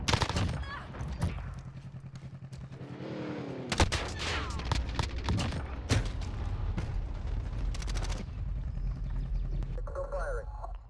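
Call of Duty Modern Warfare multiplayer gunfire cracks in sharp bursts of rifle shots during a Kill Confirmed match, with callout voices speaking between the volleys.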